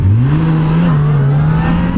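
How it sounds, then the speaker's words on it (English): A Yamaha FJR motorcycle engine revs steadily during a small wheelie attempt, a loud, close, sustained drone with a slight rise and dip in pitch and no talking. "I just like doing a couple of small wheelies. And I just blew that one."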